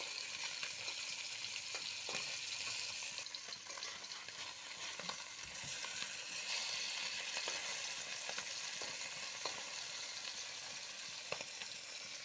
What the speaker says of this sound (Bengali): তো মাছগুলো পুরাই ফুটছে একদম